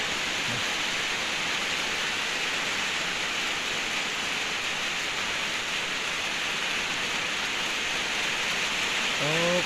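Water runs along a path in farmland, a steady, even rushing that stays unbroken throughout with no talking.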